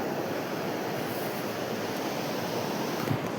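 Sea waves roll ashore at sunset in a steady, dense roar of surf and wind, continuous and close, with no pauses or distinct breaks.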